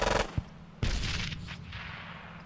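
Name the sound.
gunfire from squads in the video game Squad Battles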